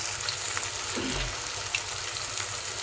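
Tuna fish pieces frying in hot oil, a steady bright sizzle with bubbling crackle that holds evenly throughout, close by, with no voices.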